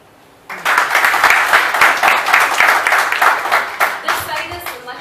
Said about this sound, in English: This side is much better than this side in clapping, in cheering